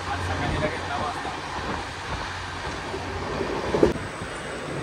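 A passenger train bound from CST toward Varanasi rumbles along at steady speed, heard from inside the carriage as a continuous low rolling noise with a brief louder clatter near the end.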